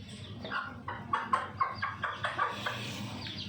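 Hens with their chicks feed on dried rice husk, making a quick run of rhythmic clucks and pecking taps at close range over a low background murmur.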